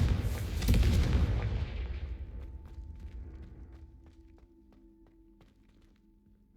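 A Confringo fire spell from Hogwarts Legacy bursts as a loud, booming explosion that rumbles and then decays over several seconds, leaving faint crackles and scattered game sounds behind it.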